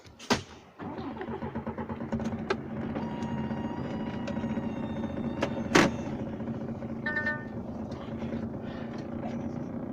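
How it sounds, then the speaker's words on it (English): A lorry's diesel engine idles steadily nearby on a site where a shipping container is being delivered to a garden centre, a continuous low rumble with a few sharp clanks and a brief hiss partway through. "Right, let's position this truck"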